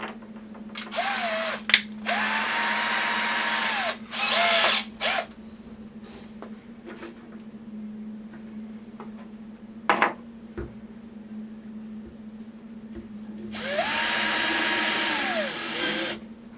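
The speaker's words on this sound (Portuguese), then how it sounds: "Então nós vamos fazer 2 furos nessa linha aqui e um furo aqui nessa linha" A power drill bores holes for a bioreactor assembly in three loud whining bursts, spinning up and winding down each time, with quieter knocks and handling sounds between them over a steady low hum.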